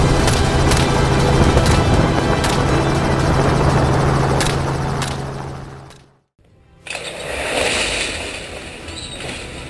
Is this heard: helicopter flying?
yes